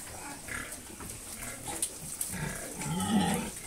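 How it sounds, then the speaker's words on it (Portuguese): Pigs on a farm grunt and snuffle in scattered bursts, with a louder cluster of grunts near the end against a low barnyard background. "É uma raça de porco muito boa"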